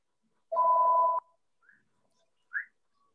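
A telephone gives one steady electronic ring of about half a second, loud and close, followed by two brief faint chirps in an otherwise quiet room.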